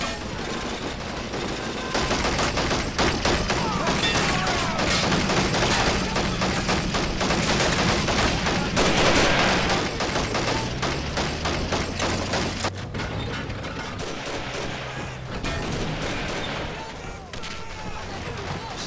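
Sustained battle gunfire in the WWII video game Men of War, Carentan counter-attack, with an anti-tank gun firing among steady rattling small-arms shots and occasional booms, loud and continuous, with a voice talking over it.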